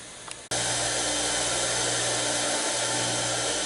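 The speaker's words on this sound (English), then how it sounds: "I'm already grinding the bottom of it off" A worn Bobcat SG60 stump grinder tooth pressed against a grinding wheel, its base being ground down; after a brief click the wheel starts up into a loud, steady, continuous whine and rush that runs unbroken to the end.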